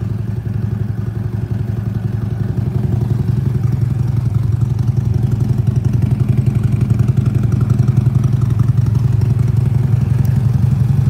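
A Harley-Davidson Road King with slip-on exhaust idles steadily nearby while warming up, its exhaust giving a soft, even, low-pitched putter with a slight mechanical clatter and no talking.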